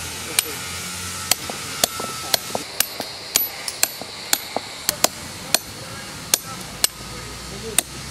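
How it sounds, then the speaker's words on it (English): A brick or chasing hammer striking a steel point chisel while carving stone, sharp ringing metallic taps in an uneven steady rhythm, about a dozen and a half blows, close and distinct. "After I use the point chisel, I use the brick hammer or chasing hammer,"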